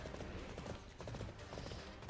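A summoned horse's hooves clip-clop in Arslan: The Warriors of Legend, a steady faint stream of hoofbeats with mechanical clatter.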